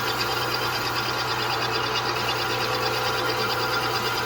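A milling machine cutting port work on a Stihl MS 462 chainsaw cylinder, a steady, dense whirring and buzzing that holds at an even loudness throughout, with no voices.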